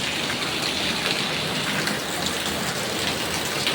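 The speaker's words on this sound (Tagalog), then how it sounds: "Napakalakas ng ulan, walang tigil." Heavy rain pours down in a dense, constant roar, loud and unbroken throughout.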